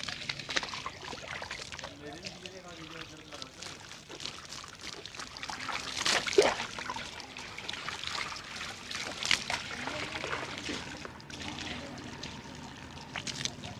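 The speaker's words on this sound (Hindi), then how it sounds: "फिर हमने सिर पर पानी डाला है" During a sunlight bathing routine, water is poured over the head, making uneven splashing and trickling pours that rise and fall, with a voice talking in a low murmur beneath.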